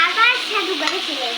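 Cucumber pieces and jackfruit seeds fry in oil with cumin, the oil left over from frying fish. A close, bright sizzle with a wavering, whistle-like hiss carries steadily through the short stretch.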